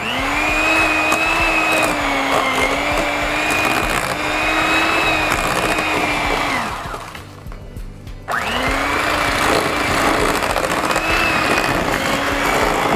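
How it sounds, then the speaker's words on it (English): A handheld electric mixer whirs steadily as it beats sugar into a mixture for a wild game dish. The motor whine holds loud and even, cuts out briefly for about a second, then starts up again. "Get a hand mixer and just start beating it together."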